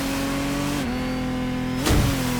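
Lamborghini Technomar boat engine from The Crew Motorsport, a sustained loud motor drone that dips in pitch, then surges with a brief burst of noise near the end, alone without voices.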